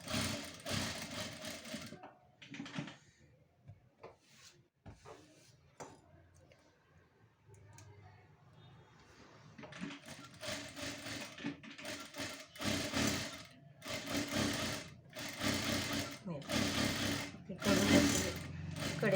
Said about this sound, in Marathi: सारखी अशी व्यवस्थित अशी टीप मारून घ्या